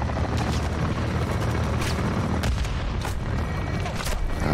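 Rapid, dense gunfire from Call of Duty: Modern Warfare 2 (2022) campaign combat, loud and sustained, with sharp cracks rising over a constant rumbling battle din and no talk.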